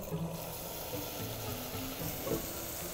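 Cream poured into hot amber caramelized sugar taken off the heat, giving a steady close sizzle and bubbling with a brief stronger burst near the end, alone without talk.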